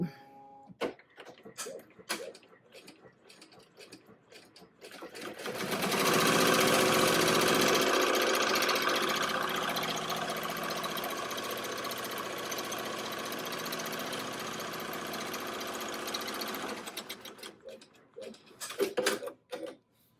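An embroidery machine stitching an in-the-hoop card wallet, a steady fast mechanical whirr and rapid needle chatter that starts abruptly, runs for about twelve seconds and stops, with quieter handling noises before and after.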